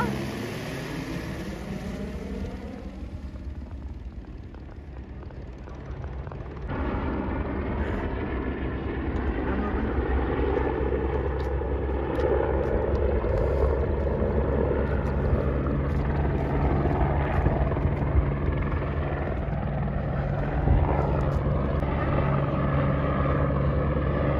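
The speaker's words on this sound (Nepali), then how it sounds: "हेर्नुस् त हेलिकप्टर मेरो टाउको माथिबाट उडेर गयो" A helicopter's rotor drone fills the air on a mountain trek in Nepal, growing louder and steadier as it passes close overhead, a continuous rumbling thrum with faint background noise.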